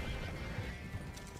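A short horse whinny with rumbling hoof clatter, dense and somewhat muffled, lasting only a moment, from the video game Red Dead Online.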